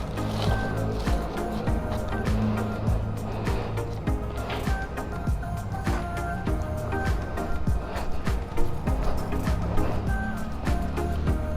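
A portable air pump runs continuously, a dense, loud motor drone with steady rattling texture and no pauses, and no voices over it.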